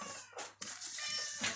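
A mother cat inside a shop meows close by, a few short, clear calls in quick succession against a quiet background.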